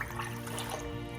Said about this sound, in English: I'm going to put a couple of cups of water in a saucepan